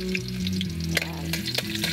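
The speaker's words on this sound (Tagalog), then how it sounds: "nagpainit na po ako ng mantika sa kawali. Ilalagay ko na po ang bawang." Garlic drops into hot oil in a pan and sizzles, with sharp crackles and pops standing out over a low steady hum.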